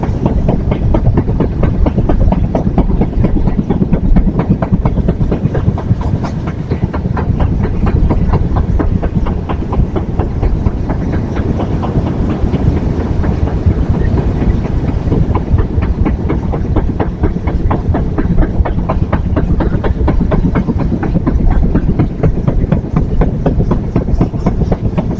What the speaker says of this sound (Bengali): আমাদের ট্রেন কিন্তু 120 পাউন্ডের লাইন থেকে 90 পাউন্ডের ব্রিটিশ আমলের লাইনে প্রবেশ করবে